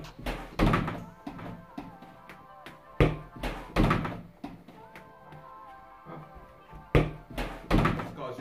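A football is kicked at a target during a lockdown football challenge, heard as several sharp, hollow thunks and impacts spread irregularly through the clip, with voices talking in between.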